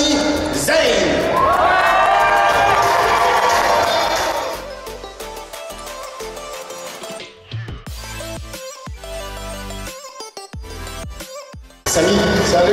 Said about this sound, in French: c'est de faire un tonnerre d'applaudissements à Sami Zayn